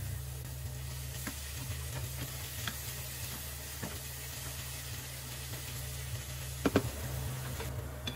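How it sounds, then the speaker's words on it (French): Two chopped onions fry in olive oil in a pan, giving a steady, close sizzle with a few soft scrapes and ticks and no talking. "je dépose 2 oignons hachés. Je vais les laisser revenir jusqu'à ce qu'ils deviennent un peu translucides."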